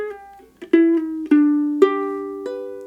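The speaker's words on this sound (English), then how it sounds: "we're going to do a series of slides and pull-offs to make this happen. It'll sound like this." Ukulele picks out a phrase of Tchaikovsky's Waltz of the Flowers from The Nutcracker using slides and pull-offs, with four or five plucked, gliding notes that ring and sustain clearly and up close, alone.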